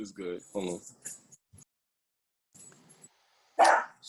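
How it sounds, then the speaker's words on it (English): A small dog barks in a few sharp, loud bursts, the last one very close, separated by quiet gaps, with someone talking briefly at the start. "He's so little and he barking so loud."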